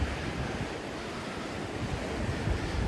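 Ocean surf washes steadily at Hunting Island, South Carolina, a broad continuous roar of waves mixed with wind buffeting the microphone and no voices.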